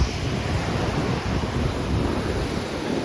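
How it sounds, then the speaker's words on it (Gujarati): Ocean waves washing onto a North Goa beach, a steady broad roar of surf mixed with wind buffeting the microphone, close and continuous with no talk. "આ છે સિકિમ બીચ"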